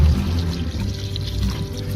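Water poured from a container onto a potted lemon plant in a home garden, a steady continuous splashing pour lasting the whole moment, close and fairly loud with no talking.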